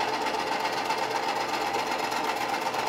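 A Neptune Apex automatic feeding system runs steadily with a close, continuous whirring drone and a faint clicky texture, alone with no voices.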